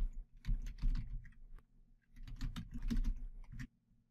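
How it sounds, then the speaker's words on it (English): Bursts of clicky typing on a computer keyboard as email addresses are entered, two busy runs of keystrokes separated by a brief pause, close and moderately quiet with no talking. "You'll just type in their email addresses."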